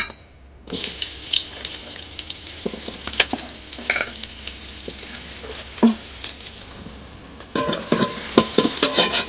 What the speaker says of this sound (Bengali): আর প্রথমে আমি কড়াতে পেঁয়াজ দিয়ে দিচ্ছি